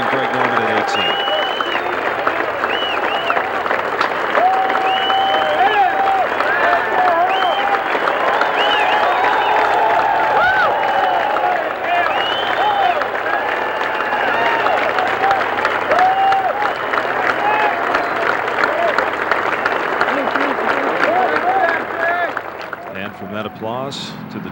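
A golf gallery at the 1990 U.S. Open at Medinah breaks into sustained applause around the tee, a broad crowd roar of clapping that holds steady, with a commentator talking over it before it fades near the end.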